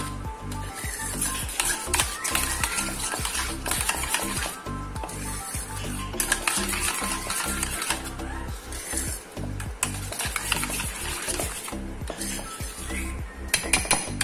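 A spoon stirs garam masala and other spices into a yogurt mixture in a bowl, making steady, rhythmic clinks and scraping taps that continue close up for about fourteen seconds.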